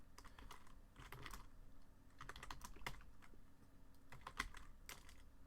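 Keys clatter in irregular bursts and pauses as C++ code is typed on a computer keyboard, fairly quiet and close with no talk.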